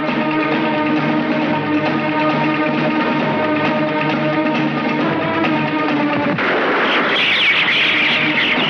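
Gunfire in a Bollywood action thriller, a dense, continuous barrage of shots and blasts layered over a sustained musical score, growing harsher and noisier in the final seconds.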